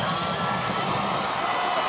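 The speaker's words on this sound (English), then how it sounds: "you'll hear this home crowd really get into it" Home crowd at a Chardon versus Kenston high school football game roaring and cheering continuously, a dense, loud wash of voices and whoops filling the stands throughout.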